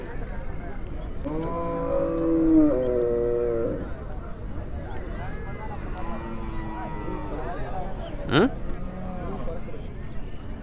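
Cattle at a crowded livestock market, with several drawn-out lowing moos from nearby animals amid background chatter and a sharp rising cry near the end.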